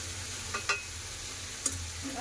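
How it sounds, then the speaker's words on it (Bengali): Vegetables and spices with salt and turmeric are stir-fried in a pan for a Bengali chorchori of yardlong beans, snake gourd and shrimp. A low steady sizzle runs throughout, broken by a few light spatula scrapes, and no one speaks. "ভালো করে সব কষে নেব"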